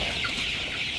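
Coloured broiler chickens on a farm cluck steadily, their calls blending into a dense, continuous flock murmur at moderate distance with no voices.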